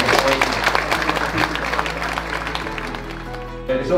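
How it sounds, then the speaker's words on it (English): A crowd applauds, with dense clapping that stays fairly steady and gradually thins toward the end. "If we give them a quick round of"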